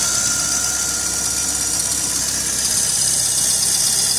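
A car engine idles steadily during a negative and positive grounding test, a constant close mechanical hum with a faint hiss layered on top and no talking.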